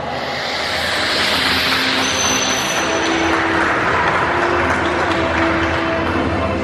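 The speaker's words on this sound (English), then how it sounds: "if there's one sound our dolphin stars don't get tired of hearing, that's the sound of your applause" Audience applause at a dolphin show at Ocean Adventures in Gulfport, Mississippi: a dense, sustained wash of clapping that holds steady and loud across the whole stretch, with a faint tonal hum in the background.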